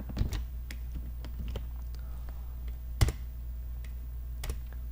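Typing on a computer keyboard while entering commands, with scattered sharp key clicks in an irregular rhythm and one louder keystroke near the middle, close and fairly quiet over a low steady hum.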